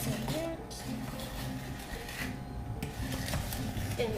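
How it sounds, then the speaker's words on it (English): A spatula scrapes around the sides of a mixing bowl of butterscotch cookie bar dough, making close rasping and rubbing strokes in short repeated passes. "you always want to scrape the sides of the bowl to get everything mixed in."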